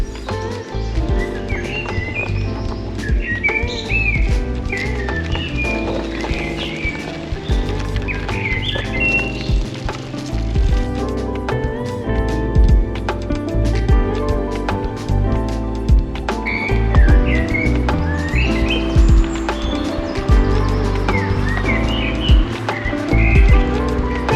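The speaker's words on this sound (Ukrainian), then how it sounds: "а тут співають пташки" Birds chirp and whistle in short phrases over a busy background with a low, rhythmic croaking pulse running throughout.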